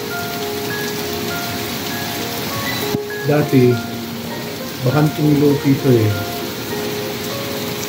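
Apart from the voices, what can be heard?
heavy rain pouring in Saudi Arabia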